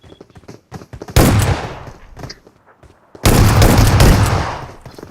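Gunfire in an FPS video game, S12K shotgun in a 1v2 match: a few small clicks and taps, then two loud, blasting bursts of fire with a long, rolling tail, close and alone.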